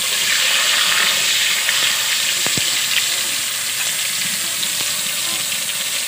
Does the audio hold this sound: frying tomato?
yes